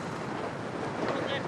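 Steady wind roar buffets the microphone during an America's Cup qualifier sailboat race, a dense broadband rush with water noise that holds constant and swells slightly near the end, with faint voices underneath.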